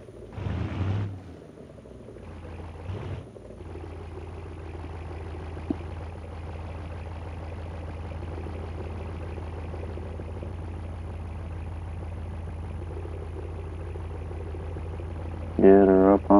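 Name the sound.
truck engine idling while backing onto a scale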